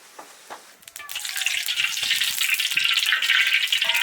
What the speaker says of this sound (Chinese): 先给把石头炒了个